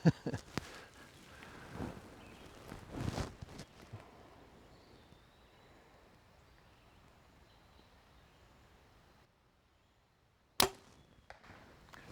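A bow releases with one sharp, quick snap near the end, followed by a faint thud, after a stretch of quiet outdoor rustling.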